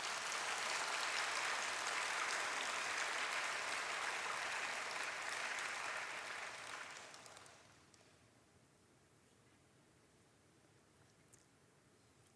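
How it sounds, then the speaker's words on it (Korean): Congregation applauding in a church during a Sunday service, sustained close clapping for about seven seconds that then drops away to quiet room tone. "우리 박수 한 번만 쳐줘요."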